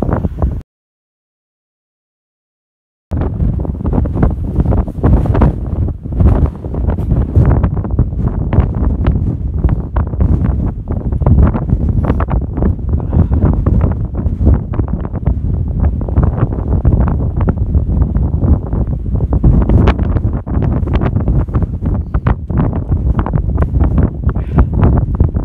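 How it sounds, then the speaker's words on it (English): Bitter wind buffets the microphone on the summit of Buckden Pike in the Yorkshire Dales, a loud, continuous gusting roar after a short silence at the start, with no talking. "that wind is bitter"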